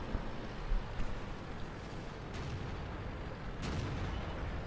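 Tank cannon shots in the video game World of Tanks: sharp broadband blasts, a couple of them clearly audible, cutting through a steady rumbling battlefield ambience with no talking.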